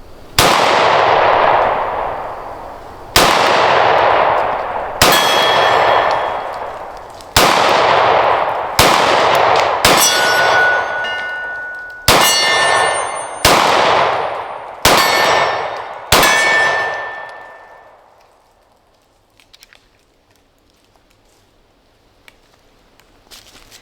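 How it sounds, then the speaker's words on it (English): Shots from a micro 9mm pistol ring out at a range: about ten sharp reports at uneven intervals, each with a metallic clang and a decaying ring, loud and close, then quiet at the end. "let's see how this one shoots"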